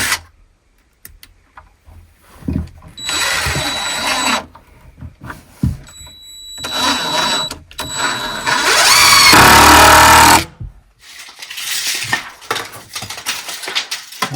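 Power drill driving screws into the upper framing of a walk-in shower with a bench and pony wall, several loud bursts of whirring separated by pauses, with metallic clatter between them.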